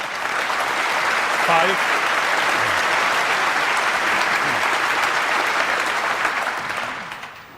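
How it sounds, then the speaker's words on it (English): A packed Wembley Arena crowd at a 2008 Masters snooker match breaks into loud, sustained applause that fades near the end, with a commentator's voice briefly over it. "you got a generous round of applause"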